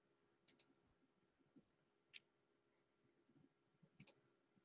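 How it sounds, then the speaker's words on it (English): A computer mouse clicks a few times while a student's comment page is being opened: two quick, sharp clicks, then a single one, then another close pair, quiet and near, with no talking. "So if I click on my Savannah student, I can leave a comment"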